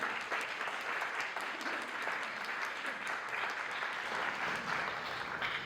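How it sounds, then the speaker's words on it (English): Audience applause for Dr. Mohunnad at a StorySlam storytelling event: dense, sustained crowd clapping that fills the whole stretch at an even, full level with no pauses. "So everyone, please give a big round of applause to Dr. Mohunnad."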